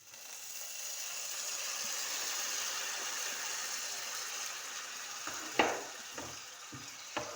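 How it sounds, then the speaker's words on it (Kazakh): Steady, close sizzle of rice frying in a pan on the stove, a continuous crackling hiss broken near the end by a few sharp clinks of a utensil against the pan. "Бес минут көлемінде қуырып аламыз."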